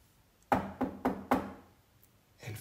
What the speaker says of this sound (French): Elle frappe doucement à la porte.